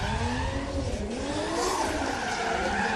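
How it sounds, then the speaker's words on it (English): A Toyota JZX100 Mark II drift car at a Formula DRIFT Japan qualifying round, its engine roaring loudly with rising and falling revs under continuous tire squeal and skidding, close and unbroken for three seconds. "A lot of noise coming out of that car"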